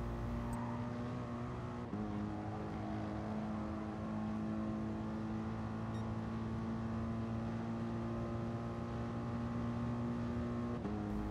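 A racing car in Gran Turismo Sport, a Mercedes-AMG on the Autodrome Lago Maggiore circuit, holds a steady, loud, droning engine tone through the whole stretch under full throttle, with brief dips at gear shifts.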